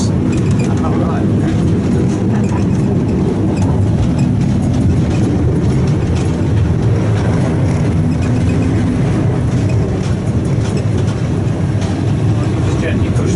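The Phoenix diesel locomotive runs on the Spa Valley Railway, a loud, continuous low engine drone with rumbling wheels heard from inside the cab, while people talk over it.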